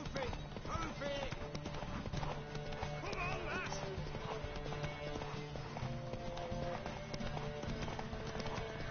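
A horse gallops in The Witcher 3, rapid rhythmic hoofbeats clattering steadily throughout amid ambient game sound, with a voice speaking over it.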